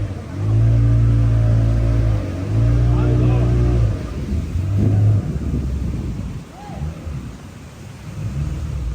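Car engine revving hard on a road, loud surging roars in bursts with brief pauses between, then a quieter stretch of rumbling and road noise.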